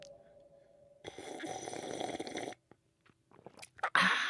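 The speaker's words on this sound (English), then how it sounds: "You slurping your coffee this morning? Of course, I did that so you could hear it on the radio." A man slurps coffee close to a radio studio microphone, one drawn-out noisy sip lasting about a second and a half, followed by quiet and a few small mouth and cup sounds.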